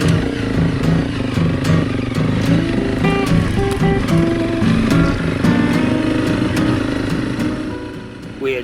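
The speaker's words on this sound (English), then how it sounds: "Joining me today was Doug on his Husqvarna 701 LR" A Husqvarna 701 LR motorcycle engine drones loudly and continuously while riding, a steady thrumming hum with slight shifts in pitch, fading a little at the end.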